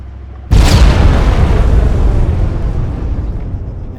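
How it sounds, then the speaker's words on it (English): A large IED bomb hidden in a trash pile or wrecked vehicle detonates in Arma 3, a single loud close explosion with a sharp onset followed by a long rolling rumble that slowly fades. "we have the large bombs that hide in large things like trash piles and blown up wrecked vehicles"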